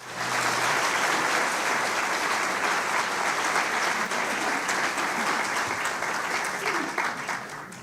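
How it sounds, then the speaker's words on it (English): Sustained, dense audience applause fills a large venue at the opening of a canonization celebration, steady and loud throughout and easing only slightly at the end. "Let's applaud everyone who is present here."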